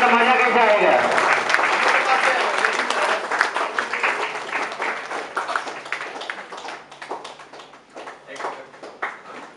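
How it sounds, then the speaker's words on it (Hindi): An audience at a Safe Shop gathering in Jharkhand's West Bengal area claps, starting as dense applause that thins into scattered, uneven claps, with voices talking over it. "ताली बजाओ, ताली नहीं बजाएंगे तो मजा कैसे आएगा"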